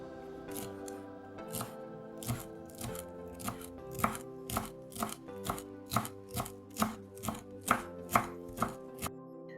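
A knife finely chops a small bunch of dill on a board, about fifteen crisp, evenly spaced cuts, close and clear with no talk.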